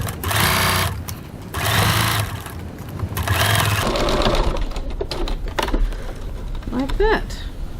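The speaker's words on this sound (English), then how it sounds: "I'm going to baste the sides in place again." A sewing machine stitches bag sides in place for a Genevieve bag, loud and close in several quick bursts with brief gaps, followed by handling noise and a voice speaking near the end.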